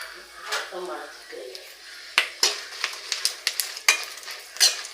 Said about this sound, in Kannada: ತುಪ್ಪದಾಗೆ ಹೊರ್ಕೊಳ್ಳೋದು